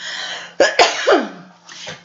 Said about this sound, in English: I'm coughing because I'm talking so much.